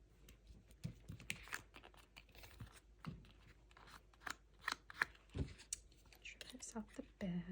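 Scissors snip paper trimmed off the back of a Christmas junk journal page, a run of crisp, close cuts and rustles under soft, quiet talk.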